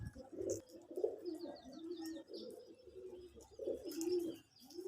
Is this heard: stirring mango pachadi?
no